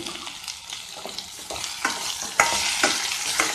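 Plantain pieces tossed into a pan with already-sautéed onions, stirred and fried with a steady sizzle and repeated scraping strokes of a spatula, growing a little louder toward the end.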